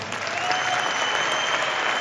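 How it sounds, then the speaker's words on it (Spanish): Audience applause at a folkloric ballet festival, a full, sustained roar of clapping that holds steady throughout, with a faint tone running underneath. "otro aplauso, por favor, de veras."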